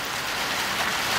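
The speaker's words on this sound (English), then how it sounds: "We're having a wicked rainstorm here." Dense, hissing downpour of heavy rain pounding surfaces at night, constant and close with no pauses or voices, on a duck farm during a storm.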